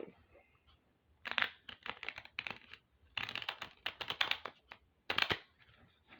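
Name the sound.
shuffling a deck of cards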